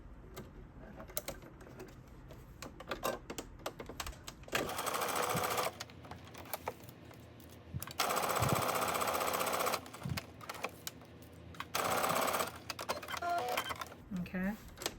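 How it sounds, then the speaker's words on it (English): A sewing machine edge stitches the top of a pocket facing for a jumpsuit, running in several loud, steady bursts of rapid needle hammering separated by short pauses and handling noise. "Let's also edge stitch the top of the pocket facing 1/4 of an inch from the edge."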